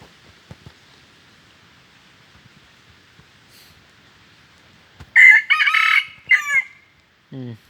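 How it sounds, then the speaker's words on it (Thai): Red junglefowl crowing in the wild: a loud, close crow bursts out and ends abruptly, cut off short, followed by a brief second call after an otherwise quiet, low-level background. "ไก่หอนขาดเนาะไก่ป่านี่หอนขาด"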